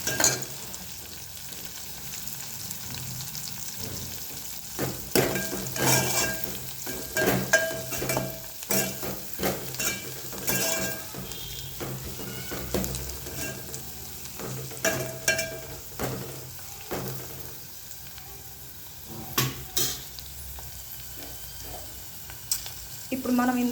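Cluster beans and green chillies fry with turmeric in a pan, giving a low sizzle with frequent clattering stirs and scrapes, and a voice speaks at times.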